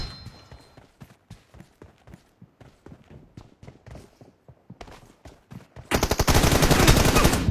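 Gunshots in PUBG Mobile, starting as scattered single cracks and short bursts at a steady pace, then a loud, close, continuous volley of rapid automatic fire takes over at the end.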